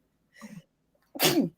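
A single loud sneeze, preceded by a short sharp intake of breath, close up and isolated in a quiet room.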